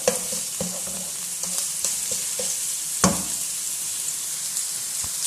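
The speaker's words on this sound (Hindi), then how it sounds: "इसको हल्का सा फ्राई करेंगे।" Ginger and garlic fry in a tablespoon of oil, a steady close sizzle broken by scrapes and clicks as they are stirred.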